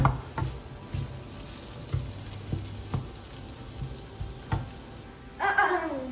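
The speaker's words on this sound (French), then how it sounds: "Regardez, et puis on va bien mélanger." Mushroom pasta sauce sizzles softly in a pan while a utensil stirs it, with scattered scrapes and taps against the pan and a brief louder scrape near the end.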